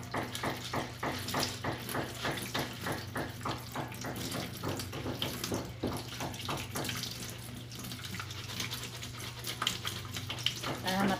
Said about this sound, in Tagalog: Una, hugasan muna ang toge.